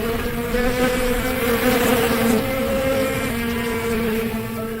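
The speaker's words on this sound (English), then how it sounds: "while the swarm of bees kept up, chasing him with a relentless buzzing" A swarm of bees chasing an elephant makes a loud, dense, continuous buzz with steady droning tones that stays close and unbroken, with no voices.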